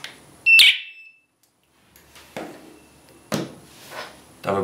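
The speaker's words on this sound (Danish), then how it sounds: "bekræftende hyl fra sirenen" A HomeAlarm wireless alarm siren gives a short, loud, shrill confirming whoop at close range as a keypad pairs, followed by quieter clicks and handling sounds.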